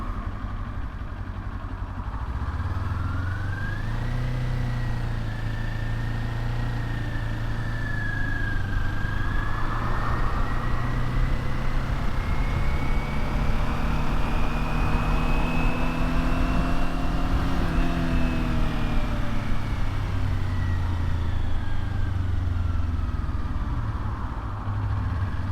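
An engine drones steadily while riding on the road, close and loud, its pitch climbing, holding through a long pull, then dropping back, with no talk.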